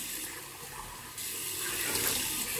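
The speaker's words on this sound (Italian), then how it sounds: "Adesso andiamo a bagnare ancora un attimo il viso." Water runs from a tap and splashes as it is brought up to wet the face before a shave, a steady close rush that grows louder and fuller partway through.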